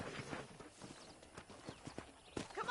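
Horse hooves clip-clop at a walking pace in the video game Red Dead Redemption, a string of uneven knocking steps against faint background ambience, with no one speaking.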